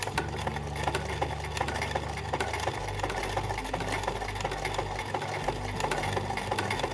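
A sewing machine runs a zigzag stitch along a fabric edge with a presser foot, a steady close, loud mechanical whir with rapid rhythmic needle ticks and no talking.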